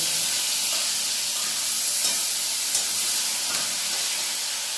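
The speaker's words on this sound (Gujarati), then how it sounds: "ટમેટું ને મરચું એ આપણી તેલમાં વઘારી લઈએ" Tomato and chili fry loudly and continuously in hot oil, a dense, even hiss with no talking.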